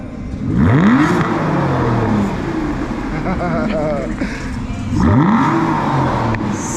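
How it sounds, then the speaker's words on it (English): An Aston Martin V12 Vantage revs in sport mode in two sharp, rising blips with a roaring climb and fall between them, close by, with people talking over it. "that's the way you rev an Aston Martin V12 Vantage"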